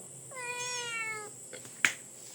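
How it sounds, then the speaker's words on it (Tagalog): A blue-eyed baby kitten gives one clear, close, drawn-out meow, followed by a faint rustle and a short sharp tap. "Meow. Meow."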